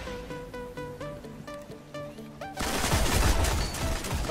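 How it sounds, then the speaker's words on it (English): Rapid gunfire from a Destiny match in Control mode, a dense burst of shots and impacts that swells loud in the second half after a patter of music-like tones and lighter clicks. "a clip sent in by Creeper Maniac playing Control, gets his sexy 4-man mid-eye multi-tool headshot spree"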